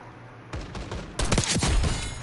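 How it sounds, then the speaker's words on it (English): Gunfire in Call of Duty Black Ops 6, with a sniper rifle shot among several close, loud cracks that come in two bursts, the second one louder and denser. "Headshot with a sniper"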